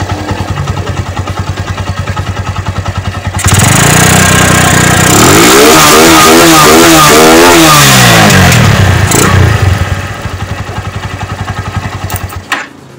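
A stock Megapro motorcycle fitted with an RX King UP 28 racing carburetor revs up hard from idle, climbing and falling through several loud throttle sweeps close by, then settles back to a steady idle.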